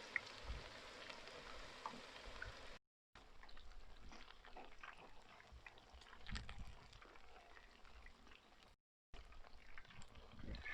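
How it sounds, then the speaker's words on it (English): Fish frying in oil in a small pot, a quiet continuous sizzle and crackle with a couple of brief dropouts, no talking. "Okay, so we now put the fish in."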